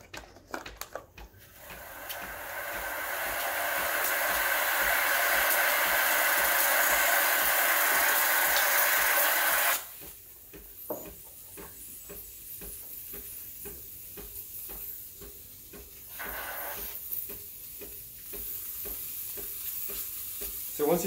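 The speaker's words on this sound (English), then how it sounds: "Okay, turn on the steam." Breville Barista Express BES870 steam wand hissing steadily and loudly for about eight seconds, then giving way to a rougher bubbling, gurgling steam sound with brief pauses, close up with no talking.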